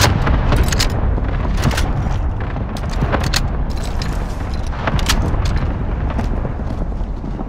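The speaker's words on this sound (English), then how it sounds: "Allied cluster strike inbound." A Call of Duty: Warzone allied cluster strike: a dense, continuous barrage of loud booming blasts with sharp cracks scattered throughout, sustained at high intensity for several seconds.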